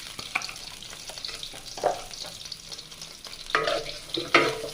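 Taro greens frying in oil with chopped onion and garlic give a steady low crackle of sizzling, broken by irregular scraping and stirring bursts that grow busier toward the end.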